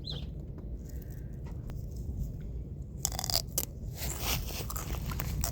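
Someone bites into a homegrown celery stalk up close and chews it, making crisp crunches that grow louder and denser toward the end, with faint birdsong in the background and no one talking.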